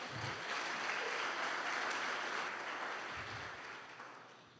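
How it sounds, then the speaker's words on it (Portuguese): A church congregation claps in steady, even applause that swells and then slowly tapers off, heard at a fairly low level with no talking over it. "Você pode aplaudir Jesus por isso, amém"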